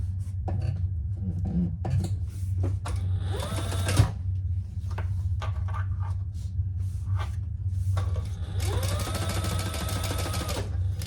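A sewing machine top stitches a crossbody bag in several short, rapid mechanical bursts separated by pauses, close and clear over a low steady hum.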